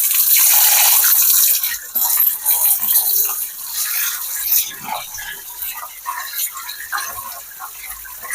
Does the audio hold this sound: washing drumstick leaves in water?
yes